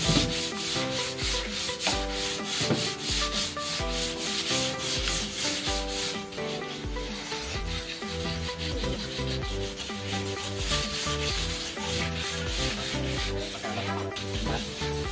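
Sandpaper rubs back and forth across a toy truck in steady scratchy strokes, close by, with music playing underneath.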